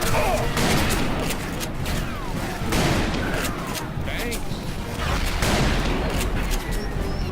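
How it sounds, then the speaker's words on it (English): Cannon fire and gunfire in Call of Juarez: Bound in Blood, a steady fusillade of loud booms and cracks in a dense battle mix, with a voice talking over it. "Apparently they have a cannon."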